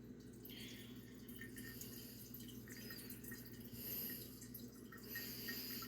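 Liquid from a can of mushrooms is poured out into a sink, a steady, faint trickle and splash running continuously over a low background hum.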